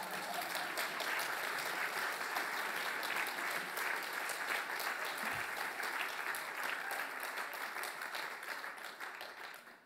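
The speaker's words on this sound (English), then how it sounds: "I need a clap for that" An audience at a presidential dinner gives steady, sustained applause for several seconds, dense and even before gradually tapering off at the end, with no one speaking over it.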